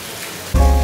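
Steady rain falls in a hissing wash, then turns suddenly louder and heavier near the end, drumming close by on a surface during a wet day in Brazil.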